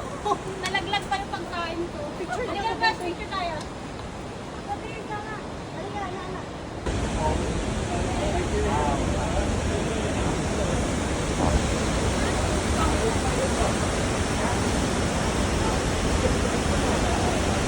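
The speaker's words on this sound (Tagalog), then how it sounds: "Grabe ang falls na to, hindi siya ganun kataas pero ang lakas ng pressure ng tubig" Pagsanjan Falls, a waterfall that is not very tall but has strong water pressure, gives a steady, loud broadband roar that swells in after a few seconds of voices and nearby rushing water, then holds unbroken to the end.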